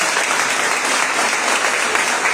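A church congregation breaks into loud, sustained applause, a dense, even roar of many hands clapping close by with no pauses.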